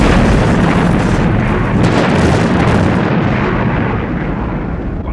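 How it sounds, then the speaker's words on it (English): Explosive charges detonate in a sustained, loud, deep roaring blast that fills the whole stretch and tapers slightly at the end, with no voices. "Detonating charges"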